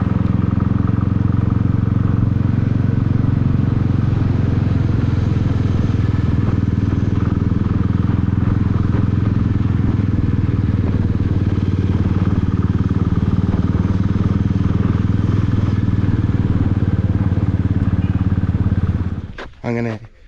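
A motorbike ridden up the Thamarassery ghat road toward Wayanad, its engine a steady loud drone close to the microphone for nearly twenty seconds, with wind rush and road rumble, cutting off abruptly at the end.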